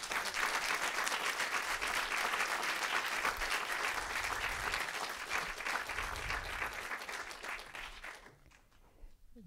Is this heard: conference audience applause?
yes